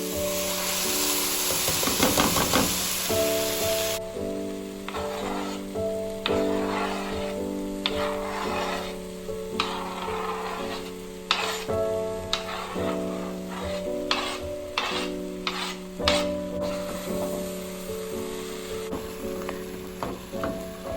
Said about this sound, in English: you're going to add your tomatoes, diced and fresh, into the mixture with the onions and garlic